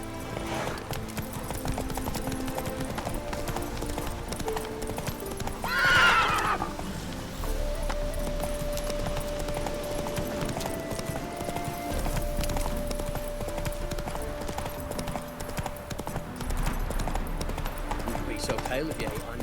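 Roach, a horse in the Witcher video game, gallops with steady rapid hoofbeat clip-clops and lets out one sharp whinny early on, mixed under a man's speech and game music.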